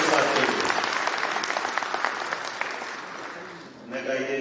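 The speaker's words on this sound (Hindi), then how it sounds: "जोरदार तालियां बजाएं" Audience at a university convocation ceremony in Bhopal breaks into loud, sustained applause that gradually thins, with a brief swell of clapping again near the end.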